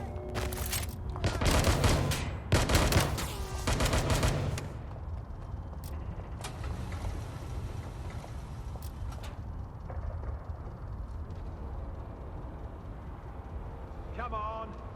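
Shotgun blasts in the video game Watch Dogs: Legion, a few heavy booming shots in the first seconds followed by a dense, rumbling wash of combat noise.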